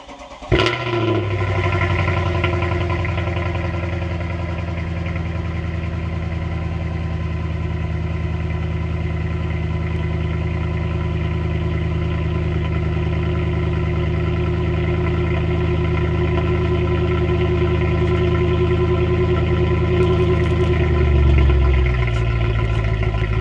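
A Mercedes C63 AMG's 6.3-litre V8 cranks and fires up on a cold start, then settles into a loud, steady deep idle that rumbles on for about twenty seconds before changing pitch near the end.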